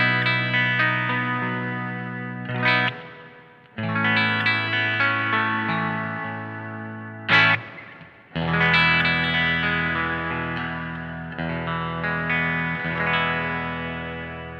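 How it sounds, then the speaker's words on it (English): Electric guitar played through a Vahlbruch Pipeline pedal emulating vintage amplifier spring reverb, loud sustained chords and notes ringing out with a washy, splashy tail, broken by a couple of sharp strummed bursts. "a pedal that's designed to sound like a spring reverb that you would very commonly find in older style amplifiers"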